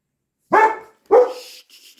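Two sharp dog barks close by, spaced about half a second apart, followed by a faint softer sound.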